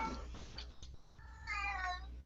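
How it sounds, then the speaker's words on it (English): A house cat meows close by, one drawn-out, clearly pitched meow in the second half following softer vocal sounds, heard over a faint low hum. "Nothing's different except my cat."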